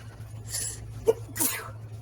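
A single sharp sneeze bursts out near the mic, preceded by a quick breathy intake, over a steady low hum.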